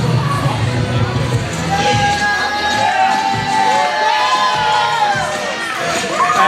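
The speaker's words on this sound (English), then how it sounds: "The crowd letting Dex know how they feel about him." Wrestling crowd cheering and shouting as wrestler Dex Royal walks to the ring, loud sustained roars and whoops with high-pitched yells rising over the din, plus some mixed voices.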